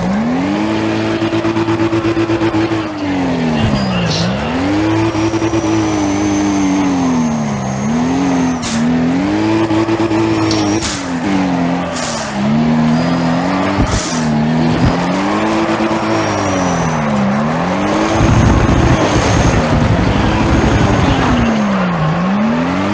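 A car drifting in Need for Speed: ProStreet on PS3, its engine droning and wavering steadily as revs rise and fall through slides, with tire squeal and brief skids layered over the loud, continuous motor.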